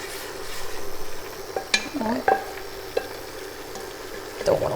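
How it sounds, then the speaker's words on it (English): Boiled pasta being stirred into a tomato paste sauce in a pan, with scraping and clinking of utensil against cookware, soft sizzling underneath and a few sharp knocks, close by with no talking. "Now we're gonna quickly add in the pasta that we boiled."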